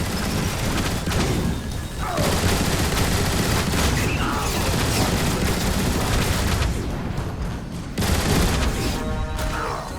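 Dense, loud gunfire and booming blasts in the game Transformers: War for Cybertron, nearly continuous over ten seconds with brief pauses, mixed with crashing impacts and no audible talk.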